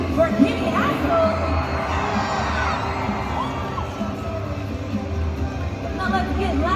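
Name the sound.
Monster Jam arena crowd screaming and cheering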